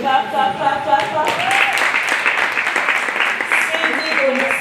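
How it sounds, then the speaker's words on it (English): Audience clapping at a prize ceremony for a plastic-waste challenge finale at the University of Lagos, a continuous crowd of claps with voices and music tones running underneath. "Clap, clap, clap, clap, clap."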